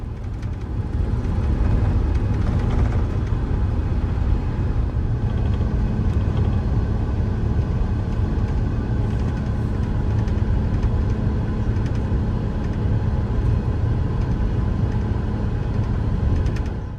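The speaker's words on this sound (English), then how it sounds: "the giant aircraft lifts gracefully into the sky" Steady, loud engine roar with deep rumble from inside an Emirates Airbus A380 cabin during takeoff, holding a continuous even drone throughout.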